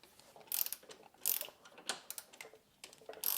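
A ratchet breaks loose bolts on a Yamaha Tenere 700 propped on a rear stand, giving close, quiet bursts of rapid clicking in several short strokes with pauses between.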